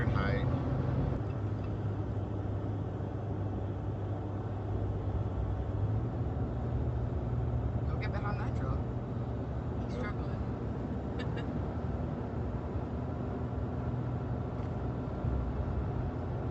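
An EcoDiesel truck engine drones steadily while climbing a hill on a graded Hurricane Creek trail, a constant low rumble with someone talking over it throughout.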